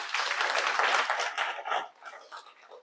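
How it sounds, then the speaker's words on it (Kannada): Audience applause follows a talk, a dense burst of clapping that thins and fades over a few seconds, heard at moderate distance. "ಸೊ ಜೋರಾದ ಚಪ್ಪಾಳೆ ನಿಮಗೋಸ್ಕರ."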